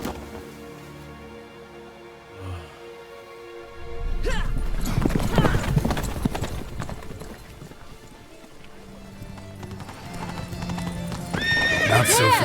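Hooves of Roach, a horse in the video game The Witcher 3, clip-clop steadily at close range after a quieter opening, with a whinny and game voices talking over the hoofbeats.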